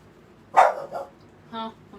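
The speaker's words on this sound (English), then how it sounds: "I just forgot she was even here, even when she was barking" A pet dog barks indoors, one sharp close bark followed by a softer second yap and a short whine-like bark.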